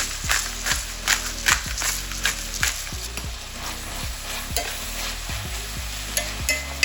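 Onions frying in oil in a pan with freshly cracked pepper, steady sizzling with repeated rhythmic scraping and stirring strokes, close and fairly loud.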